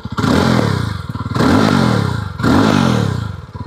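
A 350cc motorcycle is revved three times in quick succession, each blip rising to a loud, raspy exhaust roar before dropping back toward idle, heard up close with no speech.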